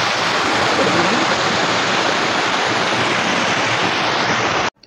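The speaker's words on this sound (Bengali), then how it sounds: "এটা ঝর্ণার জল।" Steady, loud rushing of a forest waterfall stream at Jhilimili, a continuous full roar of flowing water that cuts off abruptly at the end.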